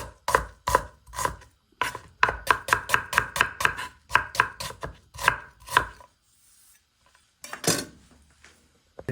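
Onions sliced for a Filipino dish, chopped with a knife on a cutting board, heard as a fast run of sharp, close knocks in quick bursts, a pause, then a few more strokes near the end.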